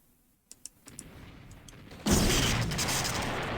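Artillery strikes in the real-time strategy game Red Alert, a 1v1 multiplayer match: a few faint clicks, then a sudden loud burst of booming explosions and rumble at about two seconds that keeps roaring to the end.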